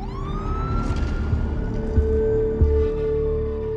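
A police car siren wails at a moderate distance in a small village, a rising, sustained tone over a muffled background with a couple of low thumps.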